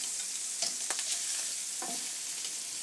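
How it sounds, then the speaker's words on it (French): Bacon lardons render in a pan for a truffade with a soft, steady sizzle, broken by a few light scraping or stirring knocks. "On fait fondre les lardons sans qu'ils brûlent"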